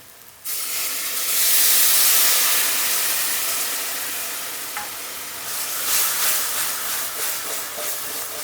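A sudden loud sizzle as a little water hits a hot pan of onions, settling into a steady hissing and bubbling with some stirring.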